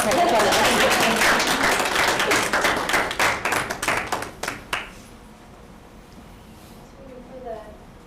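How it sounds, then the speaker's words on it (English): Meeting attendees at a Board of Health session clap for an honoree. The applause is loud and busy at first, then thins to scattered, distinct claps that stop after about five seconds, leaving a quiet room with faint murmurs. "She's here, we should clap her."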